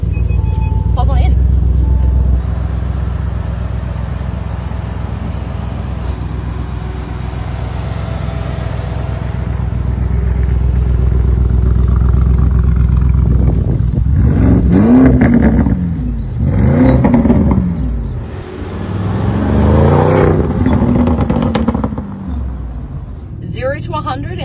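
A Lamborghini Urus Mansory engine idles and then accelerates hard, with rising, sweeping revs and loud roars in the second half, while people talk excitedly inside the car.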